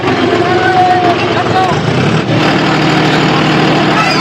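Several John Deere tractors run with a steady mid-low engine drone and rumble at an outdoor gathering, loud and continuous, with people talking over the noise.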